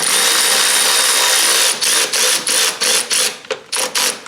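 Ratcheting clicks from a swivel socket turned by hand while fitting new suspension parts on a Honda S2000, loud and close, a steady rasp breaking into short, rhythmic bursts.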